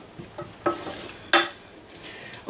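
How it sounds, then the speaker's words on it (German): Two large onions begin frying in a very large pot for borscht, with a soft sizzle under two sharp clinks of a utensil stirring against the pot. "Und die dürfen jetzt erstmal ein bisschen anbraten."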